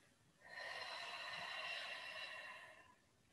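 A single long, soft exhale through the nose or mouth during a slow qi gong stretch, close and quiet, lasting about two and a half seconds with no talking.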